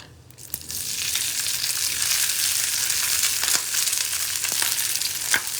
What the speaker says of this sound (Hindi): अब हम इसके अंदर राइस डालेंगे।